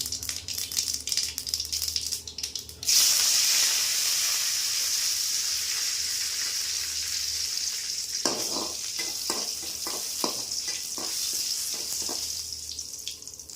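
Mustard seeds, cinnamon, stone flower and curry leaves sizzle and crackle in hot oil while tempering for a peanut kurma, a loud steady frying hiss that jumps up abruptly and continues with stirring rattles throughout.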